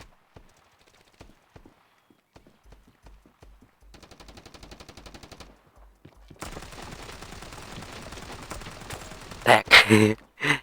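Gunfire in the mobile shooter Standoff 2 starts as sparse distant ticks, then turns into rapid, even automatic fire and a dense, sustained barrage that ends in a few loud, close bursts.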